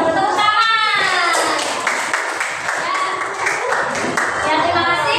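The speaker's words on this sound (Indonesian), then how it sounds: "Tepuk tangan." A classroom of third-grade children claps hands together in sustained applause, a dense, loud patter of many small claps lasting throughout, with children's voices chattering underneath.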